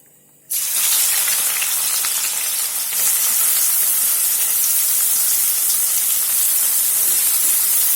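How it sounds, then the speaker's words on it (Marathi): Sliced onions hit hot oil with a sudden loud hiss at about half a second, and a steady, bright frying sizzle then holds for the rest of the clip. "तेल व्यवस्थित झालं की आपण याच्यामध्ये आपले हे स्लाइस केलेले कांदे टाकून करू टाकून घेऊया"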